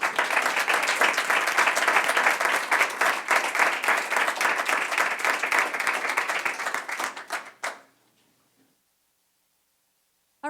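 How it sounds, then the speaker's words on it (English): An audience at a school board meeting applauds an instructor with dense, steady clapping for about seven and a half seconds. The clapping then thins out quickly and stops, leaving near silence. "I think we need to applaud you"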